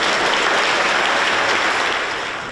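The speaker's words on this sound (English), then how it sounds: "So please give everyone involved in Community Rail a huge round of applause." An audience at a community rail awards ceremony applauds loudly in a hall, dense steady clapping that holds for a couple of seconds and then begins to fade, with no voices over it.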